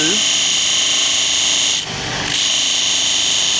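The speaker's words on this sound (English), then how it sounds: "the disc until we sand down to halfway of our line" A disc sander grinds a piece of timber held flat against its table, a steady abrasive whir with a brief harsher rasp midway as the wood is pushed into the spinning disc, loud and close.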